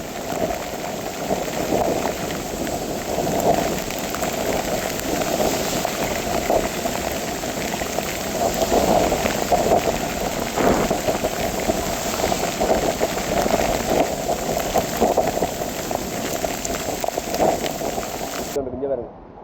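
Heavy rain pours down in Jaffna, a loud, unbroken roar of water drumming on surfaces that stays constant before cutting off abruptly at the end.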